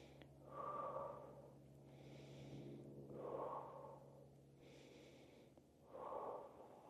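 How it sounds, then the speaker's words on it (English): Slow, paced breathing during a fascial movement class: deep nasal inhales alternate with airy exhales through the mouth, about three full cycles, close and clear over a low room hum. "breathing 3 breaths in through the nose,"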